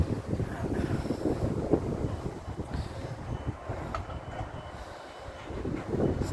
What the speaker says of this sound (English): It's just coming to the station.